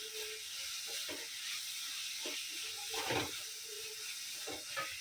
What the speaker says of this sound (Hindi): तिलकुट डाल दिए, अच्छे से भुने हैं, ये देखो भून रहे हैं